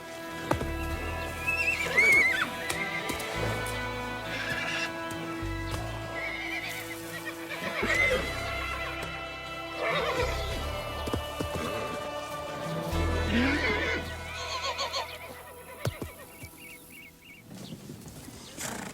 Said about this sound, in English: That gets the stallions all fired up as they compete with one another to sire next year's foals.